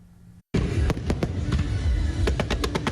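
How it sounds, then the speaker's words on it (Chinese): Colourful fireworks burst in the sky at a large wedding celebration in coastal Chiayi, Taiwan. After a brief hush, a loud, dense crackling roar erupts and continues, with a rapid string of sharp pops and bangs near the end. "七彩烟火斗斗音乐伫咧空中表演"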